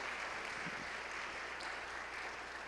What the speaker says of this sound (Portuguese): Vamos recebê-los com aplauso a Jesus